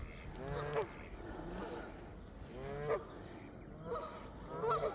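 Goose honking nearby on a dog walk, several separate nasal calls spaced a second or two apart, fairly faint against quiet outdoor background.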